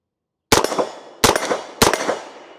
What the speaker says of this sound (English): Let's go ahead and take a few more shots with it.